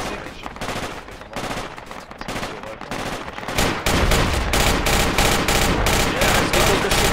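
Sustained automatic gunfire in the military shooter video game Project Reality: softer scattered shots at first, then a loud steady rhythmic burst of rapid machine gun fire for the last few seconds, with a voice briefly talking.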